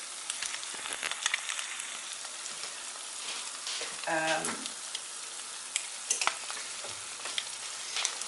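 Sunny side up eggs fry in a pan with a steady close sizzle and crackle, a brief harsher burst midway, and scattered small pops throughout.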